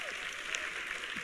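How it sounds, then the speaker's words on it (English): Audience applause for expert panelists at an elder fraud panel discussion, a soft, distant, continuous patter of many hands clapping. "Please join me in one final, strong round of applause for their expertise."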